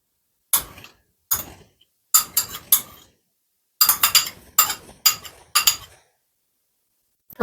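Seasoned chicken chops being tossed and mixed in a bowl for air fryer cooking, giving about nine separate clinking, scraping strokes in an irregular rhythm, close and fairly loud with brief silences between, no talking.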